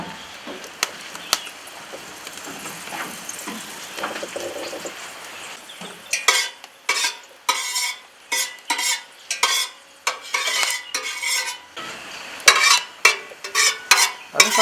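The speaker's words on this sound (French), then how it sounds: "on prend un peu de l'huile." Oil in a pot for rougail z'andouille starts with a faint crackle and light clinks, then turns into a run of sharp, rhythmic scraping and clanking bursts close to the pot.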